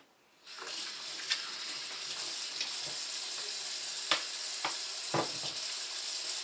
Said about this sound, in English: I have some lumpia right here that I'm going to start to fry